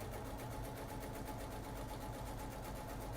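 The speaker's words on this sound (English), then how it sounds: "now I am going to sew the other short side" A sewing machine stitches a quarter-inch seam on a fabric face mask, a fast even mechanical whir with rapid rhythmic pulsing, close and steady throughout.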